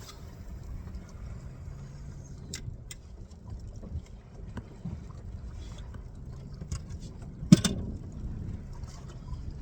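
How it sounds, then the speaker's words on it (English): Wind buffets a fishing boat on open water during a walleye outing dragging crawfish, a steady low rumble of gusts with one sharp knock near the end. "this wind's blowing considerably harder than I expected it to"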